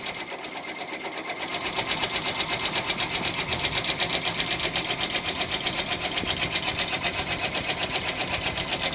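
A Brother BabyLock Venture embroidery machine stitches a border with a fast, steady mechanical chatter of needle strokes, starting softer and then settling into a loud, even rhythm, with no voices.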